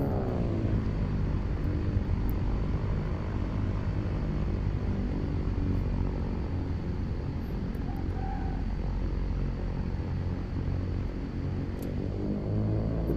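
A propeller airplane in X-Plane 12, flying over Croatia, gives a steady close-up engine drone and low rumbling hum that holds evenly throughout, with no voices.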